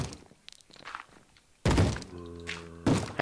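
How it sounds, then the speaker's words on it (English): A zombie bangs on a wooden door in a Minecraft-style video game, with faint scattered knocks and then two heavy, booming thuds spaced about a second apart, the first ringing briefly. "Zombie, stop banging."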